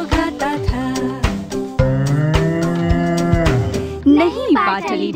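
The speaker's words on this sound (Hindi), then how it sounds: "ये गाय की आवाज है।" A cow moos loudly several times in long, low, drawn-out calls, close by and clear, with short gaps between them.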